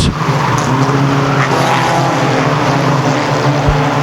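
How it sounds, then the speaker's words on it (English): Race cars roaring past the flag stand at Ogilvie Raceway during a topless stock car event, a loud sustained engine drone close by with a brief whoosh at the start. "67 of Lundstrom now stretches out the race lead as he heads past the flag stand."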